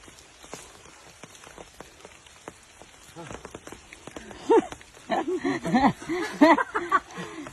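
Heavy rain patters steadily on a surface close by, while voices and laughter rise over it in the second half.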